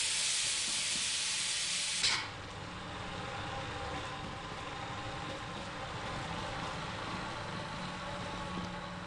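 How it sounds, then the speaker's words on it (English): Steam hissing in the video game Lethal Company: a loud, bright jet of vented steam for about two seconds, then cutting to a quieter, steady background rumble and hiss. "Fucking steam."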